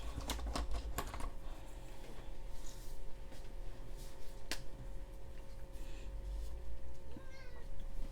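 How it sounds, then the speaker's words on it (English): A small cat meows faintly a few times amid steady clicking and tapping, with a constant low background hum. "You hear that little meow?"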